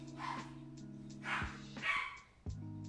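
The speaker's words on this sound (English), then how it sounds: "If you can hear that, that's my dog." A dog gives a few short, playful barks and yips with pauses between them, fairly close, over a steady low background hum.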